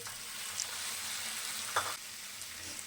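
Half a kilo of chicken fries with browned onions in a pan, giving a steady, soft sizzle with a brief clink partway through.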